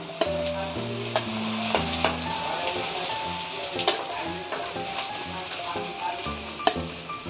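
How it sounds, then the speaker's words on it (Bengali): Prawns frying in hot oil sizzle loudly and steadily, close up, with occasional sharp spatters and faint clinks of a utensil against the pan under a background tonal hum. "দেখুন চিংড়ি মাছগুলো আমার ভাজা হয়ে গেছে।"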